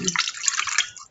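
Water is poured onto wheat dough, a short close splashing and trickling pour that fades out at the end.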